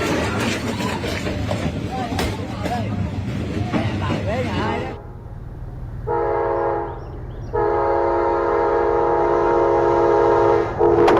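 A train rolls slowly along the narrow track of Hanoi's train street, its horn sounding in long steady blasts near the end while busy crowd noise and voices fill the first half.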